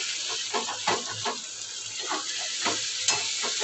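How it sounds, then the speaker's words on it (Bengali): Chicken pieces frying in a thick red spice masala, a continuous loud sizzle with stirring and scraping strokes in the pan, close up and steady throughout. "চলো এবার চিকেনগুলো দিয়ে রান্না করে নিই"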